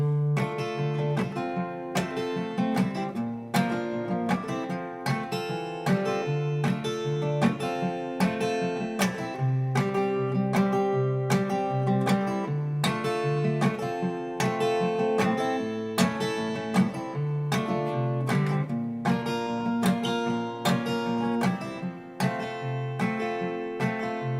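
Acoustic guitar picking the opening of a song, steady fingerpicked arpeggiated chords with a gentle even rhythm, close and clear, no voice.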